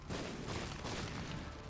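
Dense, continuous blasts and booms of video game explosions from The Binding of Isaac roll on without pause, loud and crowded together like a barrage of game sound effects.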